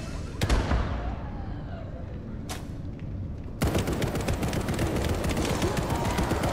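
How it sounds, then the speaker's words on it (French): PC zombie shooter Section 13: a few sharp cracks in a quiet scene, then a heavy grenade detonation that rolls into continuous loud crackling bursts of fire. "Je peux prendre ma grenade par exemple et tenter un envoi de grenade"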